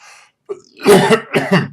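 A single short cough, preceded by a faint breathy sound, close and fairly loud, heard alone without talk.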